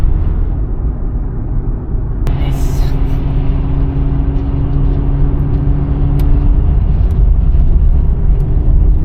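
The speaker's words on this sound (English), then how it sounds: "This was an oversized truck." An oversized truck on the Ural highway in Russia passes with a loud, steady road roar and deep engine drone that swells slightly, heard from a nearby vehicle with constant wind and tire noise.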